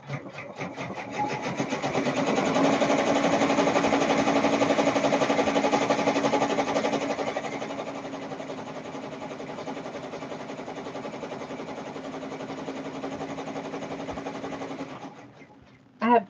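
A sewing machine embroidering orders for an Etsy embroidery business runs continuously with a steady mechanical hum and rapid needle chatter, louder early on, then settling before stopping at the end.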